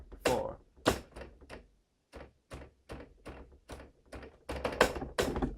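Tapping on the keys of an electronic music keyboard that has a faulty key, a series of irregular, close percussive clicks and thumps with short pauses, nearer and louder toward the end, no voices.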